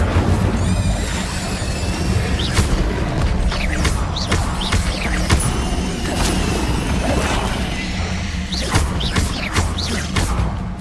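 Incendio fire spell cast during a chaotic Hogwarts Legacy battle, with repeated loud whooshing bursts and crashing impacts over a constant rumble of combat, sharp hits landing every second or so throughout.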